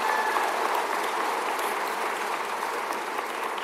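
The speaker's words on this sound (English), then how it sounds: "Let's also give Reverend Ronald English another round of applause for your commencement speech." Sustained applause from a large commencement crowd, a dense continuous wash of clapping that stays loud and even throughout.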